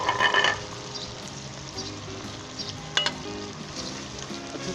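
Whole spices such as cumin, green chilli, cinnamon, turmeric, red chilli, cloves and black pepper sizzle in a pan for Pakistani chicken korma, with steady frying hiss and a few close scraping stirs, no voices.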